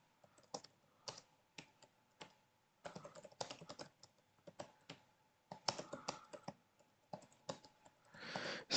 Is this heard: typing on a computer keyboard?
yes